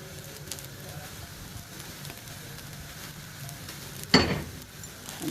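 Rice with fried onions and spices sizzles quietly in a pan as it is stirred, a soft continuous crackle under occasional scraping, with one louder clatter of the spoon near the end and no talk.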